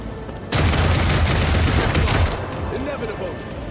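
Gunfire erupts in the video game Rogue Trader, a sudden loud burst of rapid overlapping shots lasting about two seconds, then fading into a lower rumble with scattered smaller effects.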